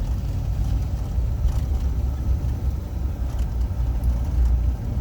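A garbage truck rumbles past on a rural road in Tonto Basin, Arizona, heard from inside a moving vehicle as a steady low engine roar that swells and fades over several seconds.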